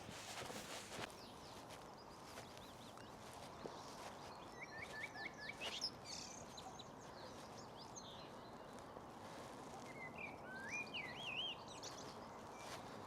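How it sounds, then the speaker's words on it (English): A small bird calls on a nature trail, short bright chirping phrases heard a few times at moderate distance over quiet rustling and footsteps on the path. "Can't even see the wee bird that's making that noise and all, but it makes some noise."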